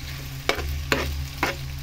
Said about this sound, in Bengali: পাস্তাটা দিয়ে সুন্দর করে নেড়ে চেড়ে নেবো, একদম সবকিছু মিশিয়ে নেবো একসাথে